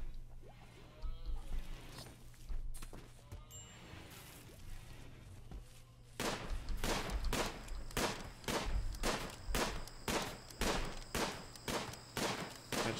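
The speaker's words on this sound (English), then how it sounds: "she's just shooting that one while it's asleep" Gunfire in the RimWorld video game as a colonist shoots at a sleeping animal and misses: a steady run of about a dozen sharp, evenly spaced shots, loud and close, after a quieter stretch of game ambience and faint clicks.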